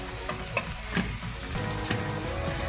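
Meat for pinakbet frying in its own rendered fat in a pan, a dense continuous sizzle with soft crackles and occasional stirring knocks, close and fairly loud with no talk.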